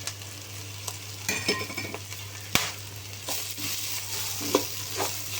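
Cluster beans fry in a pan as spice powder is stirred in, giving a soft continuous sizzle broken by scraping stirs and a few sharp clinks of the spoon against the pan, close and unaccompanied by talk.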